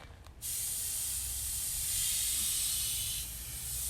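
An airbrush sprays paint outdoors in a yard in one steady, continuous hiss lasting several seconds, fairly close and with no talk over it.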